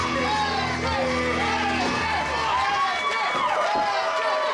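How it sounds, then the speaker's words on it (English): A wrestling crowd roars and cheers wildly, a loud sustained mass of shouts and whoops with rising pitched yells, filling the whole stretch without letup. "This crowd has gone ballistic!"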